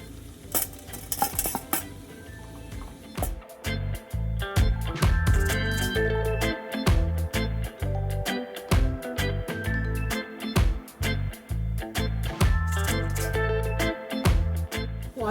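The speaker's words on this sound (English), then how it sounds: "now I'm gonna add my cauliflower rice" Cauliflower rice added to a pan and stirred, with steady scraping and clinking of a utensil against the cookware and a soft sizzle, close and continuous throughout.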